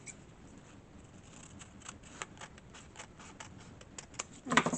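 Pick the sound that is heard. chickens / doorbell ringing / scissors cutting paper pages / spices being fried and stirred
scissors cutting paper pages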